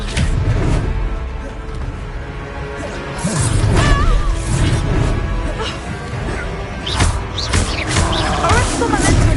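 Expelliarmus being cast in Hogwarts Legacy amid combat, with whooshing spell bursts, crashes and growling creature roars layered through a busy battle while a voice calls out over it.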